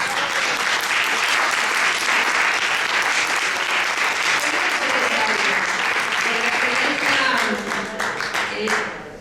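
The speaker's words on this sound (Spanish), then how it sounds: "un aplauso para" Sustained, strong applause from an audience at a talk about women in politics, thick with many hands clapping and scattered voices, fading slightly toward the end.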